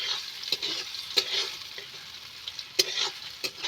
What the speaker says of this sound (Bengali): টমেটো দিয়ে আবার আমি এইভাবে নেড়ে চেড়ে